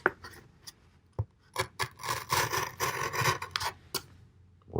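A Civivi Durus hollow-ground spear-point knife slicing through material backed with tape on one side gives close rasping, rubbing cuts, a few sharp strokes followed by a longer grinding stretch, with no talking.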